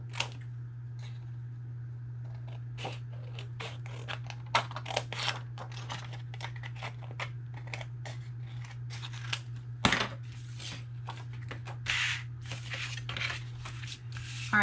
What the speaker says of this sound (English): I am purposely going to cut out a 1/4 inch border on all 4 sides of this